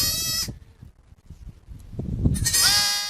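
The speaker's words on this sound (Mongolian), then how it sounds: "Ишигхэн байна шүү дээ." A young goat kid bleats close by, once at the start and again near the end, each a loud wavering cry, with a quieter stretch of low rustling in between.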